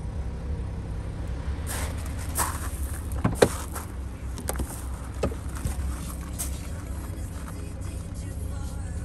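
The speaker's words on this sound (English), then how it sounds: "The car is running and you can hear the engine purring." A BMW 530d F10 with the N57 diesel engine idles in a low, steady rumble, heard close up and continuous, with a few clicks and knocks over it.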